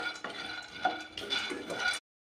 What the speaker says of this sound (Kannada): ಇರೋ ಶೇಂಗಾ ಹುರ್ಯಾಕ ಇದು ನಾನ್ ಸ್ಟಿಕ್ ತವ ಇಟ್ಟಿನಿ